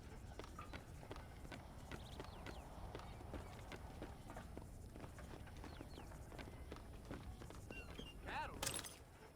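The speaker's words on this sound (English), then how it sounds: "Do you see those horses to the left by the building across the street?" Horse hooves clip-clopping at a steady walking pace in Red Dead Redemption, faint and distant over a low background rumble.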